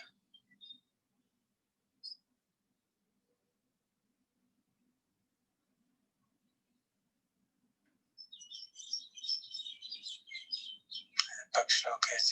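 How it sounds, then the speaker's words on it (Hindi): Small birds chirp and twitter during a quiet evening meditation, with a couple of isolated faint tweets early on, then a lively burst of rapid overlapping chirps near the end, set against near silence. "पक्षियों के चहचहाने की आवाज आ रही है, उसको देख सकते हैं।"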